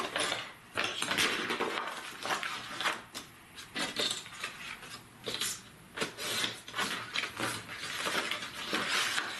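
Close, rhythmic scraping and rasping strokes as a blade cuts through paper for a baby-boy pop-up scrapbook album page, repeated short passes with no talk.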